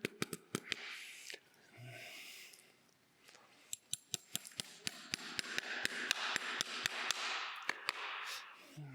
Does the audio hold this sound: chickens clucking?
no